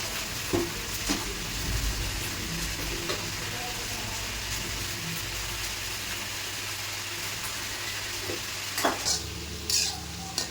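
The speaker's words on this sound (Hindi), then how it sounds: "तो एक तरफ मैं गोभी छौंकूँगी" Cabbage being tempered in a hot pan sizzles steadily while a utensil scrapes and stirs it in irregular strokes, loud and close in a home kitchen.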